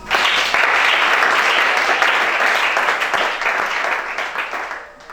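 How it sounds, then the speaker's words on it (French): A church congregation at a Gabonese worship service bursts into loud, sustained applause, a dense wash of clapping that fades slightly toward the end. "Acclamez chacun."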